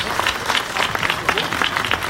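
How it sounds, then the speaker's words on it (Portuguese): Applause from diners for Ciro Gomes at a party-membership dinner in Fortaleza: a short burst of scattered, distinct hand claps at moderate volume, with crowd voices underneath. "Aplausos turbinados para Ciro Gomes."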